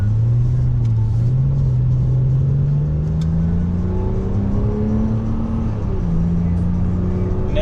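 Engine of a 2007 Porsche Cayman revving up steadily, a loud close droning tone that climbs in pitch over a constant low rumble, with no talking.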